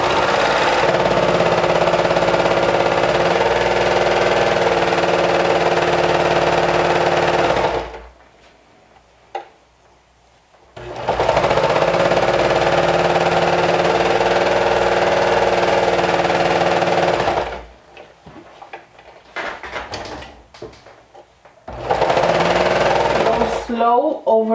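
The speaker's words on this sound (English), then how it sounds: "we're going to stitch it down with a 1/2 inch seam allowance" A sewing machine stitches a half-inch seam on leggings in long, loud, steady whirring runs. Two pauses break the stitching before it starts again.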